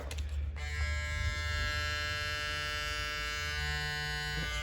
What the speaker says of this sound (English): here's the clipper, another sound check here